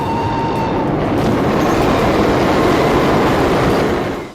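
A train rumbles past loud and close in a film scene, a steady dense roar of wheels and carriages holding for about four seconds before tapering off at the end, with no voices.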